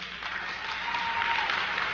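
An audience claps steadily, a dense, even patter of many hands sustained throughout, moderately near and with no voices over it.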